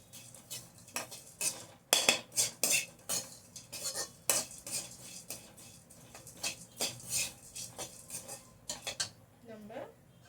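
Spices for bisibela bath powder being stirred and dry-roasted in a pan, with repeated scraping and clinking of a metal spoon against the pan, irregular bursts, close by and fairly quiet.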